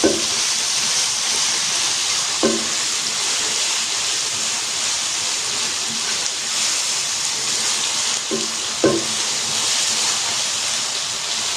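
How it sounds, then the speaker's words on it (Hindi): Chicken, vegetable and macaroni mixture stirred in a pan, a steady hiss of cooking with occasional sharper scrapes and clinks of the spoon against the pan. "अच्छे तरीके से इसको मिक्स कर लें और 1 मिनट तक इसको भी हिलाते रहें।"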